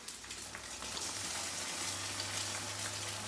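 A cracked egg frying in a pan crackles in a steady, fine sizzle like light rain, moderately close, with a low hum underneath and no talking.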